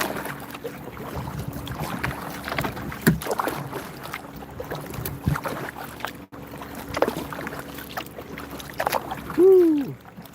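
Paddle strokes through water from a small boat, soft dipping splashes and drips recurring close by over wind and light background noise.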